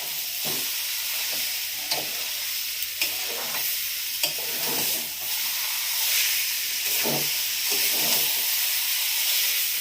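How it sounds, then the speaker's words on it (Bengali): A spoon or spatula scrapes and stirs a thick chana dal barfi mixture with sugar in a pan in a steady, repeated rhythm over a constant hissing sizzle. It is close and fairly loud, with no talking. "ক্রমাগত নাড়ছি, নাড়তে নাড়তে শুকনো হয়ে গেলে আবার দেখাচ্ছি নামাবার সময়"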